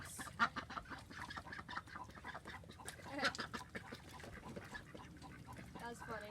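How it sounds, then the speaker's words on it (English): Ducks quack in short, scattered bursts, fairly quiet and somewhat distant, with a voice talking faintly underneath. "But yeah, ducks."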